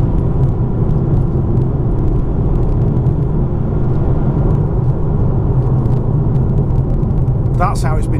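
A BMW M2 Competition engine drones steadily and loudly while accelerating through a corner, a low continuous rumble with a brief higher whine near the end.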